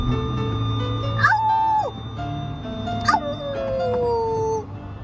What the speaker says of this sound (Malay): Ni wolf lah. Serigala.